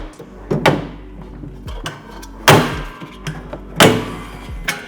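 Several wooden thumps and sliding knocks, like a drawer being pushed shut and pulled open, repeated at intervals with quieter rattles between, from the bottom drawer of a Holman shelving drawer unit.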